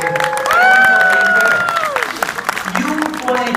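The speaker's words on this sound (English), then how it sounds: "Huge round of applause, Emily." An audience applauds a guest speaker at a training event, with claps and cheers swelling loudly under bright whooping voices, then settling into a steadier, thinner patter.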